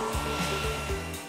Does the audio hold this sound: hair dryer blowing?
yes